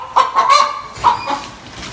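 Several loud, close cockerel calls and honking squawks come in quick bursts, overlapping briefly.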